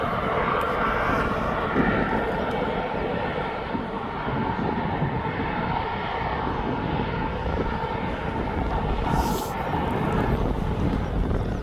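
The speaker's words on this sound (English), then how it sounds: "Malaga flight's now making its way onto runway 9." Airliner on the move at East Midlands Airport, a steady broad engine roar with no let-up, heard at middle distance against a background of open-air ambience.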